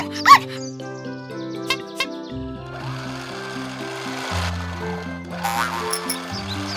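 A cartoon puppy yelps and whimpers in short bursts over bouncy, tuneful background music.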